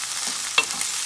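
Frozen green peas being stirred into a king fish stew in a pot, heard as a single short, close scrape and stir with a light sizzle and no voices.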